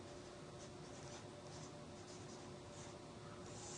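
A pen or pencil writing down a calculation on paper, faint continuous scratching strokes with soft rhythmic pulses over a quiet room hiss, close and alone with no talking.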